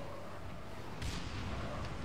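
A rocket launcher in the video game Halo: Reach fires with one sharp, loud blast partway through, a fainter second burst following over a constant background hiss.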